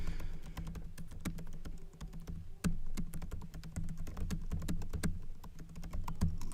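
Fingers type steadily on a computer keyboard, a dense run of quick, light clicks and taps with occasional sharper keystrokes, close by and without any talking.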